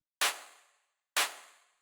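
A deep, low-tuned techno clap sample struck twice about a second apart, each a loud, close, bright snap with a short decaying tail, alone with no voice.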